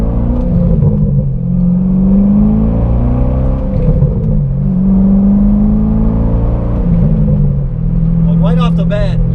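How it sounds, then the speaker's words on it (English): A Chevy C6 Corvette fitted with an SLP Loudmouth exhaust pulls hard, its deep rumbling drone rising and falling with the throttle, recorded close from inside the cabin, with a brief voice near the end. "Hear that exhaust. That is the SLP loudmouth exhaust, and it is definitely loud."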